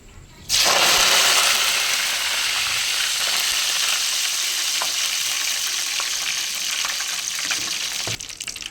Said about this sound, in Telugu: కరేపాకు కూడా కొంచెం ఇలా వేపేసుకొని క్రిస్పీగా అయ్యేంత వరకు ఈ పకోడీ మీద జల్లేద్దాం